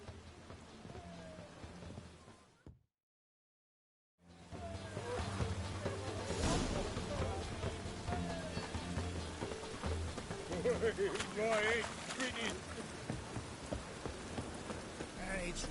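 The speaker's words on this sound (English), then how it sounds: "It's raining again." Steady rain falls in a PS4 video game, a dense hiss of drops on surfaces that cuts out briefly to silence, then returns loud and continuous with faint thunder-like rumbles under occasional speech.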